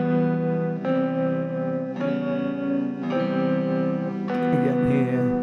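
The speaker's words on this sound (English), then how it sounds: "it's a nice guitar tone, and that's the tone for most of these electric guitars you're hearing." An electric guitar with reverb and compression plays sustained chords, four strummed chord changes at roughly one-second intervals, each ringing out with a smooth, compressed tone and a reverberant tail.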